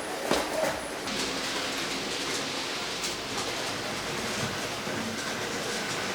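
Hornby TTS Tornado model train locomotive running on its track, a continuous faint clattering rattle with hiss and occasional clicks, no voices.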